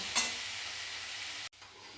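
Potatoes seasoned with salt and turmeric fry in oil in a pan with a steady, bright sizzle. It drops out briefly for a moment, then resumes more softly. No one talks over it.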